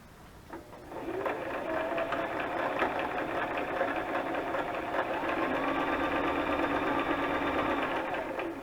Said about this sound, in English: Sewing on lace might not work, but we'll see.